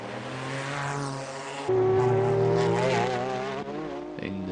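Race cars at the 1999 24 Hours of Le Mans, including Toyota and Porsche prototypes, roar past with rising, whining engine notes, loud and sustained with overlapping pitch sweeps.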